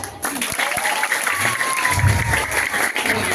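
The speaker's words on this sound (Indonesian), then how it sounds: "Nambah tepuk tangan ini." Outdoor audience applause at a Balinese Cupak performance at a village temple in Bangli, steady clapping from a crowd with a faint whistle and low thumps mixed in.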